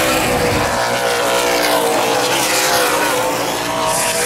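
Late model race cars in an outlaw series 100-lap feature at Baer Field Speedway, side by side through a corner, a loud sustained engine roar that holds steady for the whole stretch.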